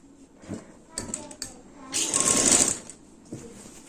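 A sewing machine stitches the crotch gusset (miyani) of a salwar or palazzo, starting with short clicks and then running in one steady burst of under a second, with someone talking nearby.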